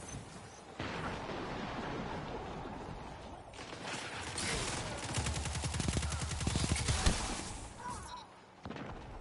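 Rapid automatic gunfire in a video game rattles in dense bursts that grow louder toward the middle, mixed with booms and game noise, with a voice talking at times.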